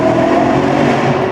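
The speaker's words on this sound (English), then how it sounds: "That's got to be a downshift through that, Joe." A BMW E92 M3 engine revving hard on a downshift, a loud steady mechanical roar heard from close by, with no talking.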